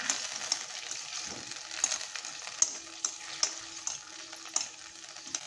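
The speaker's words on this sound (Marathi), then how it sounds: "आता छान अशी उकळी फुटली आहे आपल्या फोडणीला." A tempering (phodni) splutters in hot oil for masoor dal dhokla, a soft steady fizz broken by scattered sharp pops and crackles, heard alone at close range.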